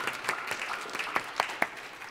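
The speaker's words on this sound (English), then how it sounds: "big round of applause to Yvonne" Light, sparse applause from a small audience at a research administration meeting, a handful of distinct claps at a modest distance, fairly faint and thinning out.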